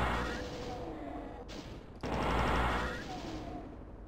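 Gunfire in the video game Doom 2, played on a PS4 Pro, comes as dense, continuous rattling bursts with a brief cut-off midway before the firing resumes, moderately loud throughout.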